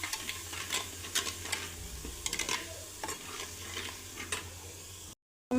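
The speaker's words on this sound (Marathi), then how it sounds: "ते पण आपण तेलामध्ये छान परतून घेऊया" Masala with onion-garlic spice, mutton masala, salt and garam masala sizzles in hot oil in a clay pot for mutton curry, a steady close frying crackle broken by repeated scraping stirs of a spoon, ending abruptly.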